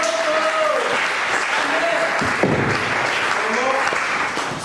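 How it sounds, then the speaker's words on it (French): A church congregation applauds during a Sunday service, a steady wash of clapping that runs the whole stretch while voices and sung tones carry over it. "tobebi maboko"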